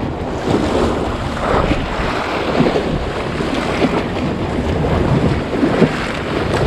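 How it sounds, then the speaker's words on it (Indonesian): Strong wind buffeting the microphone out at sea on a small fishing boat, a steady roaring rumble with waves washing and sloshing underneath, continuous and loud with no talking. "Ini anginnya mulai nih bos."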